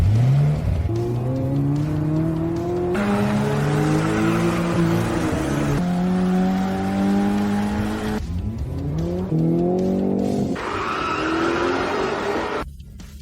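Racing car engine revving hard and accelerating during a mountain road race, with rising gear-by-gear engine pitch, tire squeal and skidding, loud and continuous throughout.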